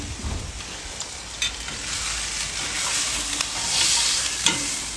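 Miso beef sears in a hot pan, a continuous close sizzle and crackle with occasional stirring scrapes and bumps, steady and fairly loud, with no talk.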